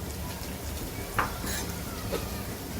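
Biryani masala, cumin powder and Kashmiri chili powder sautéing in a pan for veg biryani, with a steady frying hiss and a couple of sharp clinks from a spoon against the pan.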